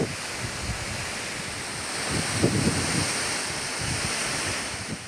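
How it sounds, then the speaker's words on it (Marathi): Water released through the 11 gates of the Barvi dam into the river, a broad continuous rushing roar with wind buffeting the microphone, steady and fairly loud with no voices. "या धरणाच्या 11 दरवाजांमधून आता 200 क्युसेक इतकं पाणी नदीत सोडलं जातंय"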